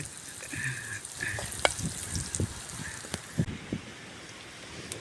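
A pan of crab roast bubbles and sizzles close by, a steady crackling fry with scattered pops and spatters and light stirring noises.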